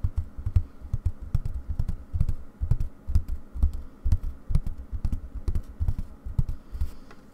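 Close-miked tapping on an embroidery hoop used for cross stitch, a rapid, uneven patter of soft knocks that runs steadily throughout with no voice.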